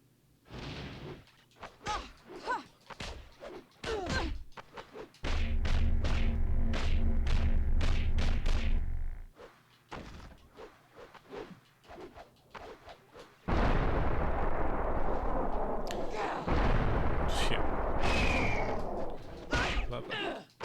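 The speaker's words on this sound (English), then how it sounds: "it's different types of shooting a gun that Mystique has" Mystique fires her gun in X-Men: Mutant Academy 2 as a series of sharp blasts and bursts, with stretches of dense, loud sustained energy fire between rapid punchy shots, and someone talks over parts of it.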